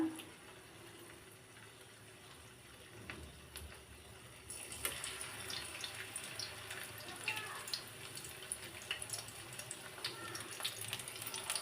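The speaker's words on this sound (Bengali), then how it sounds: "গরম তেলে ছেড়ে দিতে হবে পাকোড়াটা" Pakoras made with komli greens are dropped into hot oil, and a bright, crackling sizzle swells up partway through and keeps bubbling steadily at close range.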